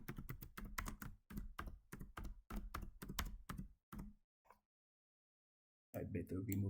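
Quick clusters of keystrokes clatter on a computer keyboard, close and crisp, then a pause before a final short burst of typing.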